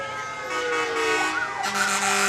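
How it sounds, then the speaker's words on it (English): Emergency vehicle sirens sound during a lighted Christmas parade, a wail rising and falling over steady engine and crowd noise, with a second siren joining loudly partway through. "we're beginning to hear some sirens, James Terry."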